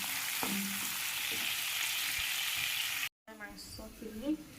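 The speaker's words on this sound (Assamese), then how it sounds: "ভালদৰে মাংসখিনি লৰাই দিম আৰু ল' ফ্লেমত মাংসখিনি সিজাম" Meat stirred and fried in a pan on a low flame, a steady close sizzle with a few scraping stirs, followed after a brief gap by someone talking.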